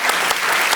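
Audience applause at a tech talk event, a dense steady wash of clapping at full strength throughout, close and loud with no voices over it.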